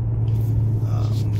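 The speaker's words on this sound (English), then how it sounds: "I've never heard a V6 turbo ever sound like this" Cabin view of a stock 2018 Mercedes-AMG C43 with its V6 turbo engine, a steady, close low rumble droning evenly throughout with no break.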